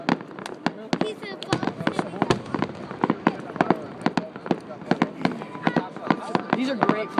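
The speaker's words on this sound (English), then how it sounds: "These are great fireworks." Fireworks at a park display burst in a steady run of sharp cracks and pops, some close and loud, others softer, with crackling between them. Voices talk throughout.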